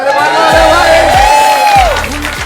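A live crowd at a Marathi stand-up comedy show cheers and whoops loudly in a steady roar, with voices calling out above it and a person speaking over the noise.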